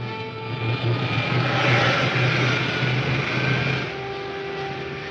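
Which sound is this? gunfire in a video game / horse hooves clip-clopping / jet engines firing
jet engines firing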